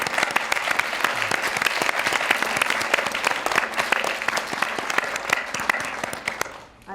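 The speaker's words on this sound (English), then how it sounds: "I would ask you to join me in applauding them." An audience at a campus panel session on veterans with mental illness applauds steadily for several seconds, a dense even clapping that fades at the end.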